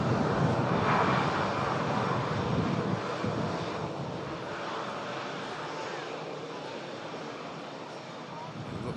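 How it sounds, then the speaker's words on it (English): Cathay Pacific Airbus A350 airliner pushing back from Terminal 2 at Manchester Airport, a steady broad jet-engine roar with some wind, loudest at the start and easing slightly, with a voice talking over it. "This time it's Cathay Pacific. Flight 216, just pushing back now from T2 here at Manchester International."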